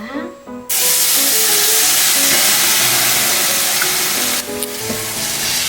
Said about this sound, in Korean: 이렇게 갈비를 구워 보겠습니다